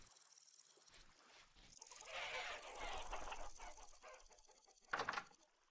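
Chickens cluck and squawk in the survival game Vintage Story, a busy flock of overlapping calls rising to a dense cackle, then a sharp louder squawk near the end over soft ambient background.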